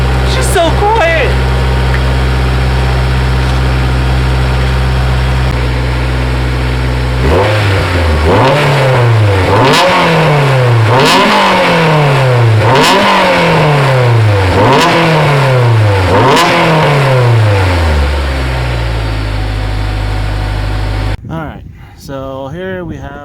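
A project car's engine idles, then is revved repeatedly in a steady series of sharp rises and falls before cutting off, loud and close throughout.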